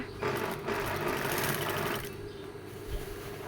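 A sewing machine runs a waist seam while a garment is let out at the waist, giving a fast, even mechanical whir with a steady needle rhythm for about two seconds before slowing and easing off, close and clear.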